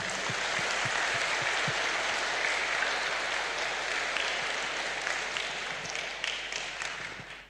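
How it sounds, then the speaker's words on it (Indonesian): A parish congregation applauds a church youth group after a Good Friday crucifixion tableau, with a broad, sustained wash of clapping that stays even throughout and fades away at the very end. "Kita beri tepuk tangan untuk mereka."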